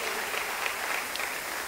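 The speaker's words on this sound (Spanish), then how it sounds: "dé el aplauso fuerte al Señor" Congregation applauding in a church service, a steady wash of clapping from many hands at moderate level, with no speech over it.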